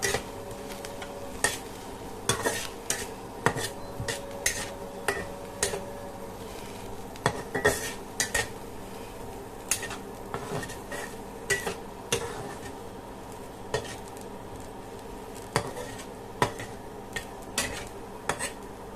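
A fish curry with taro is stirred in a pan, giving a run of irregular metallic scrapes and clinks of a spoon against the pan over a faint low sizzle.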